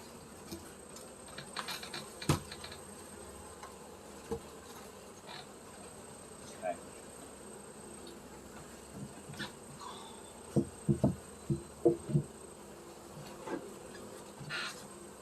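Honey bees buzz around a hive on a porch, a faint steady hum with scattered soft clicks and knocks from handling the hive, heard alone without talk.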